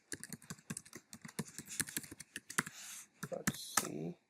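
Rapid keystrokes on a computer keyboard while C code for a simple-interest program is typed, close and steady with short pauses, no talking.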